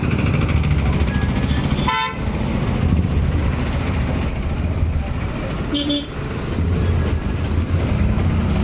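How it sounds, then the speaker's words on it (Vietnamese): Car horns honk in heavy traffic in Lamka, with a couple of distinct toots over a constant engine rumble and voices. "traffic jam"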